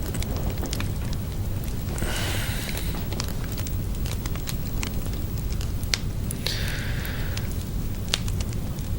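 Fireplace fire crackling with scattered sharp pops and snaps over a steady low rumble, with occasional soft hissing bursts, continuous and fairly close, no talking.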